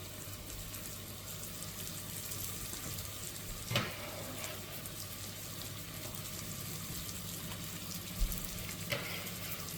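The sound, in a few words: onions frying in rendered bacon fat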